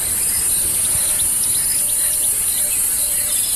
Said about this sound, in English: Listening to the morning chorus of all the birds here.